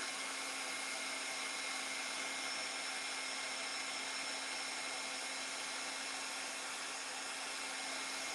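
A heat tool melts embossing powder with a steady, faint whirring blower hum and a constant tone, unchanging and without speech throughout.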